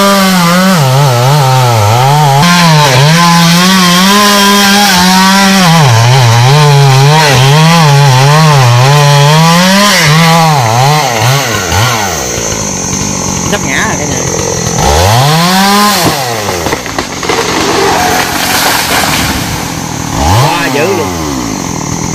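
A chainsaw cuts down a cork mangrove tree near a waterway, its engine revving and bogging in long, loud bursts with wavering pitch, then dropping off before short revs; voices talk over the saw.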